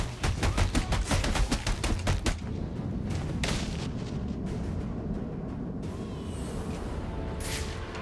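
A rapid burst of enemy gunfire in Batman: Arkham Origins, loud close shots in quick succession for about two seconds, then a few scattered single shots over a low rumbling background.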